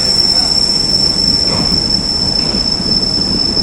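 A train pulls into the platform end at Chennai Central station, with loud steady rumbling, rail noise and a sustained high metallic wheel squeal throughout.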